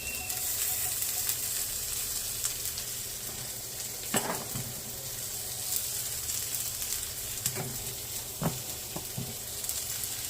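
Chopped carrot, cabbage and capsicum sizzle steadily in a hot pan for veg noodles, a continuous loud frying hiss broken by a few sharp scraping stirs and clinks of a utensil.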